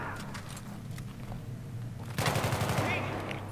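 Automatic gunfire in the Battlefield 3 video game during a corridor firefight, with steady background battle noise that erupts into a loud, rapid, close burst of shots near the end.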